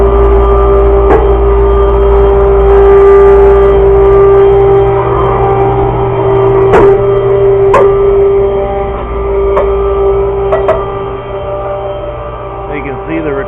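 A homemade stair lift's motor hums loudly and steadily as it carries a rider upward, a constant drone with a few faint clicks and knocks along the ride.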